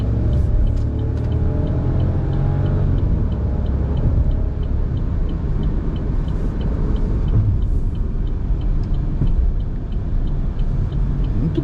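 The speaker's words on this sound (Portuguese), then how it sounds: "o ruído típico, né, de motores tricilíndricos" A 2023 Chevrolet Montana double-cab pickup driving with its three-cylinder engine, the low steady engine drone and road rumble loud and continuous from inside the cab, without speech.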